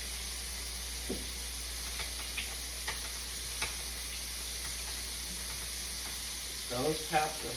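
Pork chops sizzle softly in a pan with a constant low hiss, broken by a few faint clinks and a brief murmur near the end.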